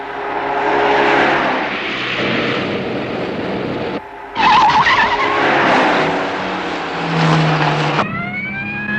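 A car speeds along a highway in a police pursuit, engine roaring loudly with a brief break before revving up again and tyres squealing, near and intense.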